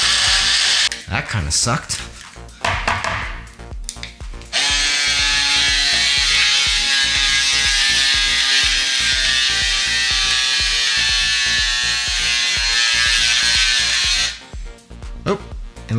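A BlendJet 2 portable blender whirs loudly and steadily for about ten seconds while blending a thick soft-serve mixture, its motor drone strained and even, after a short burst of speech and shaking sounds at the start.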